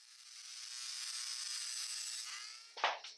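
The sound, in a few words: cutting disc trimming the ends of screws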